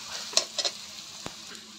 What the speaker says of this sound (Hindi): अच्छे से सबको मिक्स करके लेंगे।